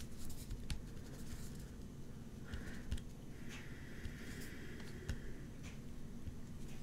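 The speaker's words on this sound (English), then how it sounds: "And I'm going to write this down as I make it up." Pen scratching across paper while a password is written down by hand, with soft irregular strokes and brief pauses over a steady low background hum, fairly faint and without talk.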